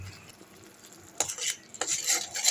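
Egg fry masala being stirred in a pan: a low background sizzle broken by a few sharp scraping strokes of a utensil against the metal pan, close up, with no talking.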